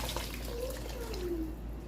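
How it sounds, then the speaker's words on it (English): Boiling-hot water poured from a pot over Trinidad curry chicken and potato, a steady continuous rush of liquid with a low background hum, close and moderately quiet. "So at this point, I'm going to put in some water, and this is hot water that I had boiling here."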